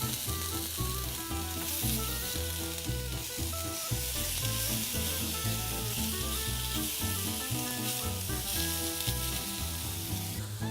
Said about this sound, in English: they've been on the grill there for maybe a minute and a half